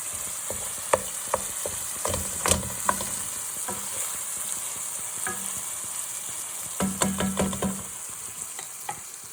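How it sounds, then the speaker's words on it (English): Ground meat for a Joe's Special sizzles steadily in a hot pan, with a spatula scraping and stirring in short bursts and a louder cluster of stirs near the end; no one talks. "So we'll stir this. Want to make sure the meat gets cooked."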